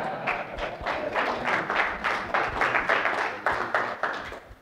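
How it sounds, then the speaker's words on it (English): An audience at a healing talk gives a round of applause, individual claps audible in a fairly regular rhythm, moderately close and steady before tapering at the end. "Give me a big round of applause."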